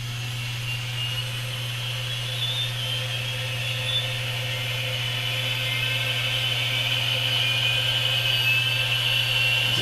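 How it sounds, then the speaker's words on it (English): A model jet turbine engine starting up, giving a steady, loud, continuous whine with a low drone beneath it that builds slightly in strength throughout. "As the fuel is injected and the engine starts to kick into life."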